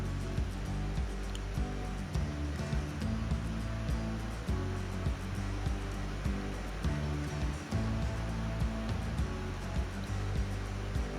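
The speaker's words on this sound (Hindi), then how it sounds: "पूरी लेंथ में हम इस तरह से सिलाई कर लेंगे।" A sewing machine runs a steady, continuous whir while stitching the double-folded hem of a palazzo along its wrong side, humming close and evenly without pauses and with no talking.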